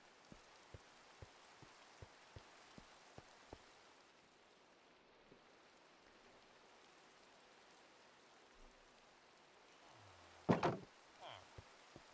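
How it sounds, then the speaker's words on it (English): Steady soft rain hisses throughout in Minecraft, with a series of evenly spaced light ticks early on and a brief louder clatter near the end. "sounds like it's raining"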